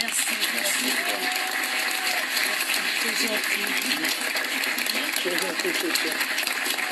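A TV studio audience on a French talk show applauds steadily, a dense, even wash of clapping that holds at constant loudness throughout, with a voice speaking faintly underneath.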